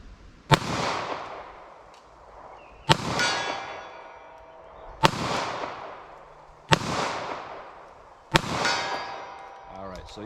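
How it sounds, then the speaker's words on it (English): Five sharp, loud .38 Special revolver shots fired single action at a target, evenly spaced about two seconds apart, each with a long ringing decay outdoors. "So let me fire a few more. Let me go single action here."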